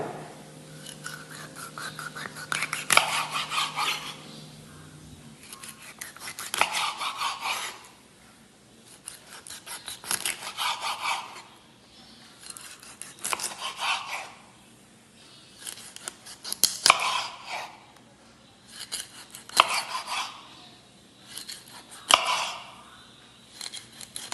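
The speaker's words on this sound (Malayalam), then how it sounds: "അപ്പം മീനൊന്ന് കട്ട് ചെയ്തെടുക്കാം." A cleaned Spanish mackerel (neymeen) is cut into pieces for fish molee, giving repeated rasping, scraping cuts in a slow rhythm, close and fairly quiet, with short pauses between strokes.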